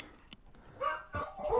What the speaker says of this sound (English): sorry the dogs are going off